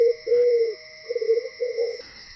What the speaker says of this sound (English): the soft rustle of the mother pigeon settling over her 5 precious eggs